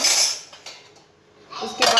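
Steel kitchen utensils set down after washing, giving a clinking metallic clatter at the start, a quiet lull, then another burst of clanks and scrapes close by.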